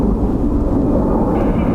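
Aer Lingus airliner in retro livery, registration EIDWM, passing near Dublin Airport: a steady, loud low roar of jet engines with broadband rumble and wind, holding constant throughout.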